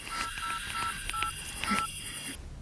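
Telephone keypad dialing tones in a Telugu film scene, a quick series of distinct beeps in an uneven rhythm over faint background sound, ending in a brief high tone.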